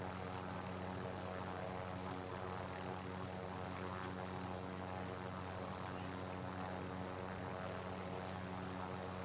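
Helicopter in the Warzone video game, a dense continuous engine and rotor roar that stays loud and steady throughout with no talk.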